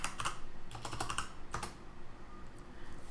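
Fingers tap out a short burst of keystrokes on a computer keyboard, a quiet, irregular clatter of clicks with a steady background hiss and no talk.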